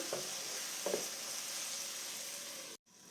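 Tomato sautéing in a pan for soya curry gives a steady, fairly soft sizzle with a couple of brief stirring clicks, then cuts out near the end.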